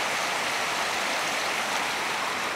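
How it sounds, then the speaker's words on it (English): Small mountain waterfalls pour into a lake in Glacier National Park, a steady, dense rushing wash of water that stays constant and fairly close, with no voices. "you got this beautiful lake with waterfalls coming down. Waterfalls all through the mountains here."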